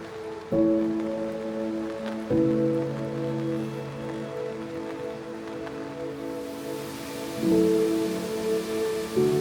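Steady rain falls along the Camino trail near old monastery ruins, a continuous soft hiss of drops with low tonal hums running underneath, no speech.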